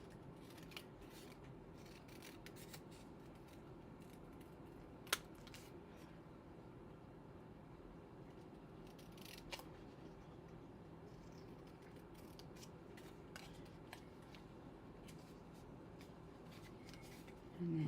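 Scissors fussy cutting paper make faint, close snips and rustles over a quiet, steady background hum, with a couple of sharper clicks.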